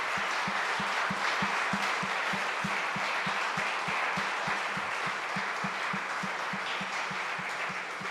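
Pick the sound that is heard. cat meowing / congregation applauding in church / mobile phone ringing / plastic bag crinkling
congregation applauding in church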